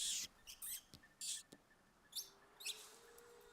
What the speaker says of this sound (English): Hey, little bird. I know, you're making so much noise.